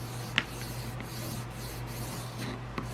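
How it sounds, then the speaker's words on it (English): Buffing compound is rubbed onto a square dowel wrapped in printer paper, giving a faint, soft scratchy rubbing over a low steady hum, with a couple of small taps, close and quiet, and nobody talking. "I'm going to wrap the square dowel with just plain old printer paper. I'm going to coat it with buffing compound."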